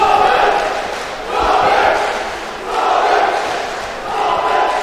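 A boxing crowd in an indoor sports hall chants and cheers in rising and falling waves, a steady roar swelling roughly every second and a half.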